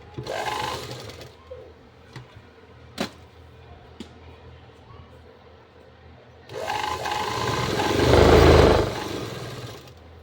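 A sewing machine stitches a double fold on a kurti side slit, with a short run at the start, a few sharp clicks and knocks, then a longer, louder, steady whirring run that swells and stops, close up.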